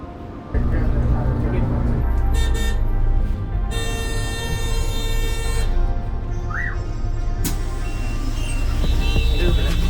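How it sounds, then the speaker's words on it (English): Dense Bangalore street traffic with repeated car and bus horns honking over a steady engine rumble, with voices mixed into the constant roar. "the amount of honking here is crazy"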